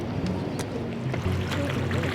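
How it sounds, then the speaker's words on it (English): Rowboat coming in out of the fog on open water, with oars and water sounds blending into steady wind and surf; a low, continuous outdoor wash with faint scattered splashes and no talk. "Wow, they're rowing in from the fog"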